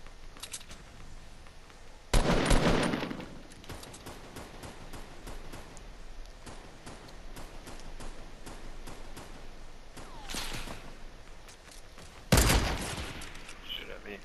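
Gunfire in a Fortnite duos match: a few loud bursts of shots stand out against a steady background of quieter game sounds and talk.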